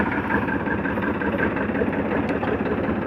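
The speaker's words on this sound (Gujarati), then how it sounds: "તો ટ્રેક્ટર આપણે કેરામાં ચાલુ કર્યું છે" A tractor engine runs steadily while sowing seed in a field, a close, continuous low rumble with an even drone and no speech.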